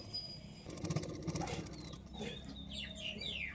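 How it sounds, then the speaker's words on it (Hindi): A sewing machine runs a line of stitches along the edge of extra fabric on a collar-neck kurti, with a steady mechanical chatter that grows busier mid-clip over a low hum. "एक्स्ट्रा फैब्रिक के ऊपर किनारे किनारे पे एक सिलाई कर रही हूँ।"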